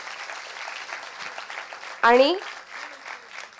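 Audience applause at a felicitation ceremony honouring chief guests and children. The clapping is steady and moderately loud throughout, with a brief spoken word cutting in midway.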